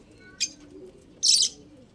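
Short pet bird calls ring out nearby, a quick chirp followed by a longer bright trill, over soft low background noise.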